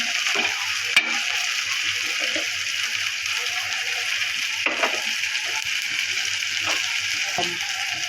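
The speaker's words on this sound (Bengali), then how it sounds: "তো এই যে গরম মশলা দিয়ে দিলাম" Ginger, garlic and garam masala fry in a pan, a steady close sizzle over eight seconds with occasional scraping stirs and a few sharp clicks.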